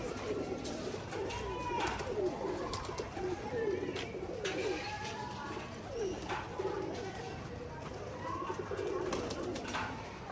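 Pigeons coo steadily and close by at a pigeon club, with several overlapping throaty calls layered over a constant background hum.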